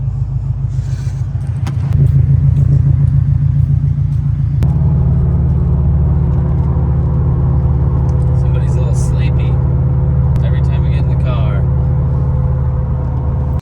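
Subaru STI rumbling along on a drive, its engine a steady low drone heard from inside the car, with a shift in tone partway through and faint knocks over the top.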